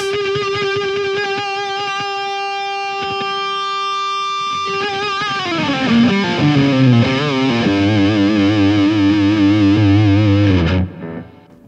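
Electric guitar played through a Tonex amp-modeling pedal, sustained clean chords ringing at first, then a busier, more driven riff with thick low notes before cutting off.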